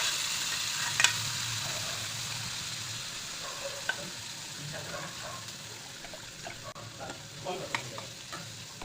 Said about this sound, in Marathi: आणि आमचा घरचा मसाला असं मस्तपैकी हलवून त्यामध्ये डाळ टाकली मी.